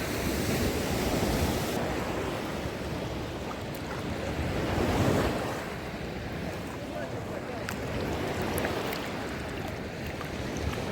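Sea surf washes onto a crowded Odesa beach in a continuous, rushing wash, swelling slightly at times. Wind buffets the microphone throughout.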